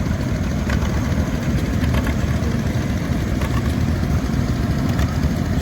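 A small vintage John Deere LA tractor engine idles steadily at a show, a close, even low chugging that holds constant throughout.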